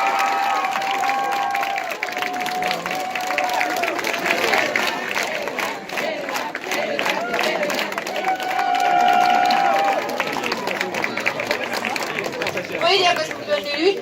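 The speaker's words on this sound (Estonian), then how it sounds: "Palun suurt aplausi" Steady audience applause fills a school naming-day ceremony in Tartu, with dense clapping and crowd chatter throughout, swelling slightly toward the middle before thinning near the end.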